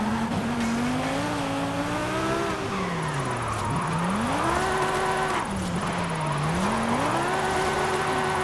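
A Mercedes-Benz drifting in Forza Horizon 5, its engine note rising and falling as the throttle is pumped, with tire squeal running underneath, loud and continuous throughout.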